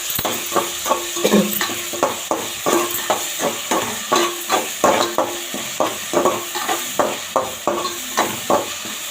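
Vegetables for an eggplant and potato gravy sautéing in a pan, a rhythmic series of spoon scrapes and clinks against the metal over a constant sizzle, close and without talk.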